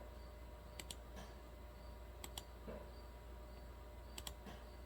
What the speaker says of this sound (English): the vent solenoid on and off and listen for it